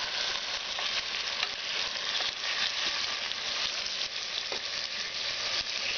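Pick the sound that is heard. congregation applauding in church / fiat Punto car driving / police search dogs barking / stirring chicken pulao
stirring chicken pulao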